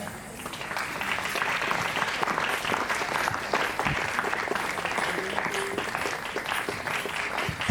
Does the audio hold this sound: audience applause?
yes